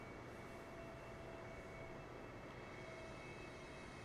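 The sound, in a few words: Boeing 747 engines slowing down in a flight simulator video game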